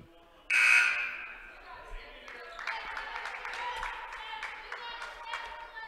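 A referee's whistle at a girls' high school basketball game sounds in one sharp, shrill blast, followed by crowd noise and a commentator talking over the gym ambience.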